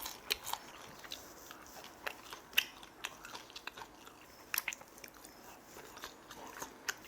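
Someone chewing grilled sand lance fish, a close, soft run of irregular crunchy bites and chews in a quiet room, with no talk.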